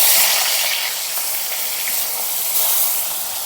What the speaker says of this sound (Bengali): বাকি মাছগুলো আমি একইভাবে ভেজে নিচ্ছি।